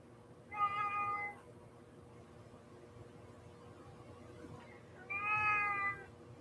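A house cat meows twice, a few seconds apart, each call a clear drawn-out tone, moderately close over a steady low mechanical hum.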